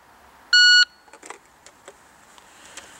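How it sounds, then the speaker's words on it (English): A Pocket Pro shot timer gives one loud, high-pitched electronic beep lasting about a third of a second. Faint clicks and handling noises follow in a quiet room. "And here's the Pocket Pro, or the Pack 2, and I like this tone a little better"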